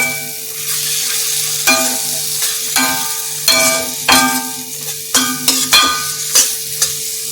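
A spiced masala with sour yogurt for Bengali chicken kosha being sautéed in a pan: a continuous sizzle broken by repeated sharp scrapes and knocks of a spatula, over a steady tonal background hum.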